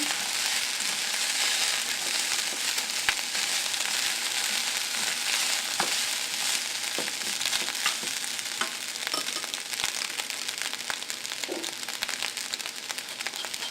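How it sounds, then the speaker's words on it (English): Eggs fry in a pan with a steady, dense sizzle and crackle, scraped and stirred now and then with soft clinks from the utensil, close and continuous without talk. "Now drop your eggs in. Stir."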